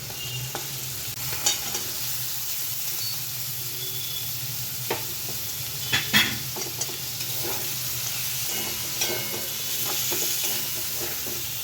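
Boiled green jackfruit frying in a pan with spice paste, a constant low sizzle broken by sharp spatula clacks and scrapes as it is stirred, no speech.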